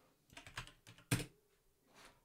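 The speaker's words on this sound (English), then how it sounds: "Wow, my typing is special today." Typing on a computer keyboard, with scattered key clicks in short bursts and one sharper, louder keystroke near the middle. The sound is close and fairly quiet, with no speech.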